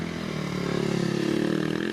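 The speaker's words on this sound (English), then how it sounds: "And here's Paul Jeffrey, 3rd in the championship last year on a KTM" A KTM motorbike at the Prescott hill climb races past with a steady, loud engine note held for about two seconds, its pitch rising slightly as it accelerates.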